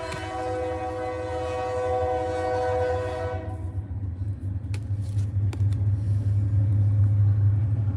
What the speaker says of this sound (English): The train's coming by.